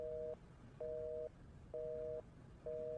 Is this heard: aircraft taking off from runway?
no